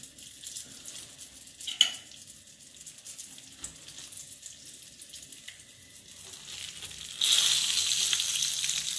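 Breaded eggplant cutlets fry in hot oil with a steady soft sizzle, a few clinks early on, then the sizzle swells much louder and stays bright to the end.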